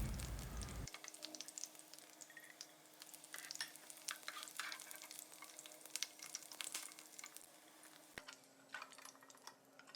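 Okra (bhindi) shallow-fries in oil with a soft, continuous sizzle, broken by frequent light clicks and scrapes of stirring. A low steady hum sits underneath and no one talks.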